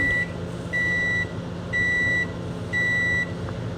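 A running microwave oven beeps four times at an even pace, clear tones over a low steady hum from its motor, with no voices.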